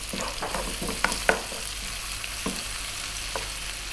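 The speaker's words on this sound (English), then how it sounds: "We're now going to go in with that garlic ginger paste, which is a 50-50 mix of garlic and ginger" Garlic ginger paste, a half-and-half mix of the two, sizzles in a pan for kedgeree, a soft continuous fry with repeated scraping stirs and a couple of sharp utensil taps, close up with no voices.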